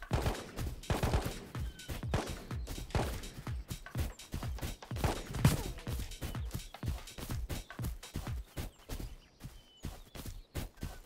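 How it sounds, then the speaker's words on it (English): Gunfire in a video game raid, a long run of sharp cracks and thuds in irregular bursts, some close and punchy, others softer and farther off, with no talk. "And there's shots behind us too"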